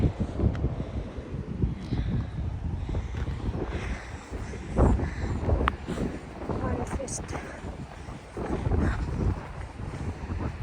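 Strong wind buffets the microphone on a rocky coast at Kita Nagano Coast National Park, Tagami-iwa Nori-ishi Rocky Shores, as a loud, continuous rumbling roar under occasional speech.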